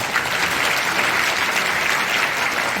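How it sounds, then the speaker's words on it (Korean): Dense, steady applause from an audience filling a prayer service in the National Assembly, continuous and close with no voices over it. "여러분 박수 한번 보내주십시오."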